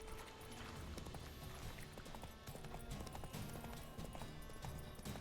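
A horse gallops in The Witcher 3 video game, with rapid, steady hoofbeats pounding continuously at a fairly quiet level, blended with the game's background sound.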